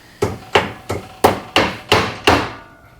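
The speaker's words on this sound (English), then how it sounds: "So that's us actually, again, managed to hammer it in" Seven sharp, evenly spaced hammer blows drive a tube into a Ford Escort Cosworth part, each a loud metallic whack with a short ringing decay, close and steady in rhythm with no speech.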